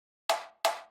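Deeper, roomier snare layer for a future garage beat, two solo hits in quick succession, each with a bright crack and a longer reverberant tail fading away.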